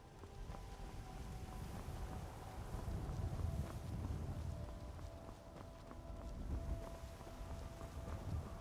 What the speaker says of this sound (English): Rain's starting to ease off, that's nice.